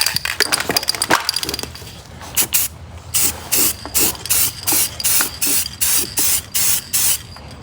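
Krylon flat black rust protector spray paint is sprayed onto a steel wheel in a quick series of short hissing bursts, preceded by some faint clinking and handling noise.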